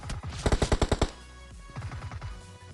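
Rapid automatic gunfire from a video game, a fast burst of about eight shots followed by a softer, quicker volley; no one speaks.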